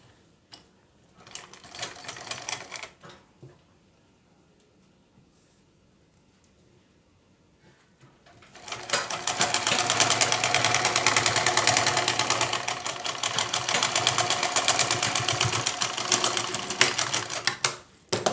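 A sewing machine stitches a lined blouse, first in a short burst, then after a quiet pause running loud and continuously for the last half with a fast mechanical rattle.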